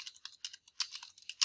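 Quick, uneven clicking of keys on a computer keyboard as a message is typed, close and fairly quiet, with short bursts and brief pauses.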